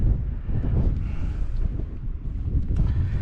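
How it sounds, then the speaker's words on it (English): Strong wind buffets the microphone in low, rumbling gusts on an English Lake District fell near Patterdale, loud and continuous with no speech. "it's a tad windy today"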